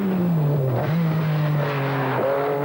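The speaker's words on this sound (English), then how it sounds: "Tony Pond running third in the MG Metro 6R4" An MG Metro 6R4 rally car at the 1986 Sanremo Rally sweeps past with a steady, loud engine drone that dips and rises in pitch as it shifts and passes, unbroken for nearly three seconds with no voices.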